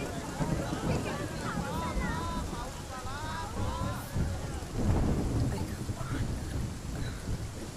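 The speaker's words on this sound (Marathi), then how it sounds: "अगं बघ पाऊस किती जोरात पडतोय" Heavy rain with rumbling thunder in a Marathi devotional film, a dense continuous downpour with a swelling thunder roll midway, while a voice speaks over it.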